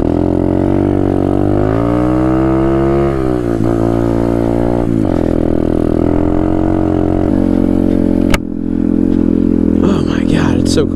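Apollo 125 x19 dirt bike ridden through deep snow on icy streets and an open parking lot, its engine loud and close, revving and shifting pitch with rattling, and a rider talking over it.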